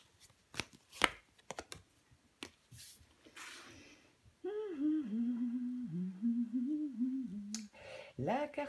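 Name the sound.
handling tarot cards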